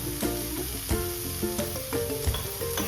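Chopped beetroot for a Kerala-style thoran sizzles softly in a pan, with a few clear scrapes and knocks from a spoon stirring it at close range and no talk.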